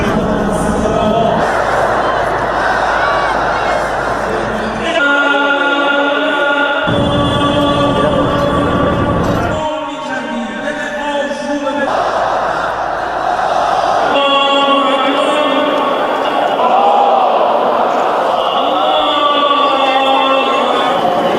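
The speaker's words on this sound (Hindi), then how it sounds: "एक तरफ ईरान में अयातुल्लाह अली खामनेई का जनाजा निकला है और उनके अंतिम दर्शन के लिए भारी भीड़ उधर उमड़ पड़ी है" A huge crowd gathers at Ayatollah Ali Khamenei's funeral in Tehran, Iran, its massed voices chanting and calling out loudly in shifting waves throughout, with distant speech mixed into the roar.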